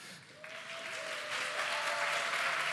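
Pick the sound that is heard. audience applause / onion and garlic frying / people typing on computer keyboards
audience applause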